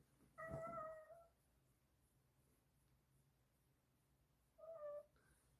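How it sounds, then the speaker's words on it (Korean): A black cat gives two clear meows, one near the start and another about four seconds later, close and fairly soft, with quiet room ambience between them. "우리 집 깜냥이 탕입니다"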